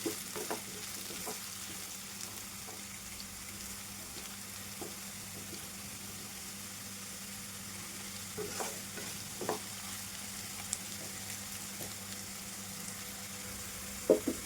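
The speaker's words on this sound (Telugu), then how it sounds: "మంచి గోల్డ్ కలర్లో అయితే ఫ్రై అవుతున్నాయండి" Potatoes for aloo fry sizzle gently in oil over a low flame, a soft steady crackle broken by scattered scrapes and clinks of a spoon stirring the pan, with no one talking.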